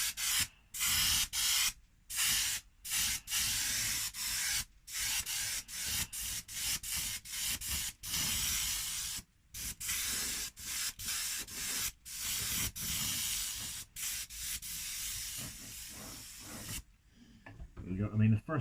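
An airbrush sprays a light candy paint coat onto an RC car body in a long run of short hissing bursts, close and steady, separated by brief pauses and ending in quieter handling noises.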